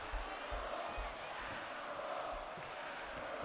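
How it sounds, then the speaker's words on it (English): Arena crowd in the WWE 2K14 wrestling video game chanting during an NXT match, a steady broad roar with rhythmic low pulses of the chant, continuous under light game noise. "this crowd keeps chanting 10-year-old at Bryce Walker"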